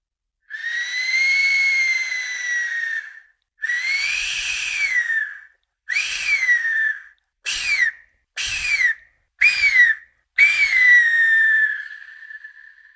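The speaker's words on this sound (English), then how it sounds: "Its noisy sounds are the first that were recorded of an ancient death resonator, and they can be recreated and listened." An ancient Mexican clay death whistle, a wind resonator, gives a series of loud shrieking, breathy screams, three long cries and then several short bursts, ending with one drawn-out wail that fades away.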